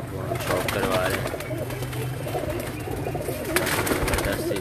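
Black flying pigeons on a rooftop in Sahiwal coo in a dense, steady chorus close by, with people talking in the background.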